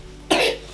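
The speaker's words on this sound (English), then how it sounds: "So that's the cough that she's had for months." A single sharp cough from a young child with pneumonia, close and fairly loud, with a short breathy tail and quiet background.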